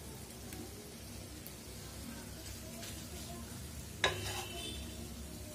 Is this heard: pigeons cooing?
no